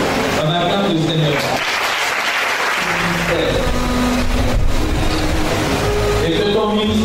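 A church congregation applauds in sustained, dense clapping that fills the room. A voice speaks over it at times, with some musical tones in the background.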